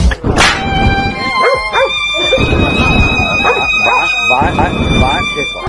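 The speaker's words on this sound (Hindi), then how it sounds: "उसने एक कुत्ते को जमकर लात दे डाली, जिसके बाद ये कुत्ता एक जगह पर बैठ गया" Dog yipping and whimpering after a kick from a horse, a string of short high yelps and cries over a steady background of voices and a sustained tonal hum.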